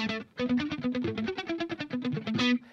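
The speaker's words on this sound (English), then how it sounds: "And you do a manual like slap back." An electric guitar plays a quick run of picked notes with a manual slap back effect, each note doubled by a fast repeated strike, bright and close with no talk.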